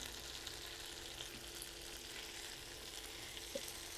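Egg 65 frying in a pan gives a faint, even sizzle that stays constant from start to finish, with a single small pop near the end and no voices.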